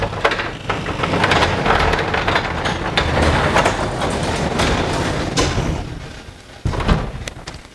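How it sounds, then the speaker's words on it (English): Continuous rumbling mechanical rattle with clanks as a garage door is lowered along its tracks during spring replacement, steady and close, easing off near the end. "Let's lower the door down."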